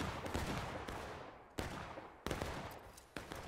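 Gunfire in the War of Rights video game: a few sharp reports land at irregular intervals over a steady background rumble, each a sudden loud crack, with no talk.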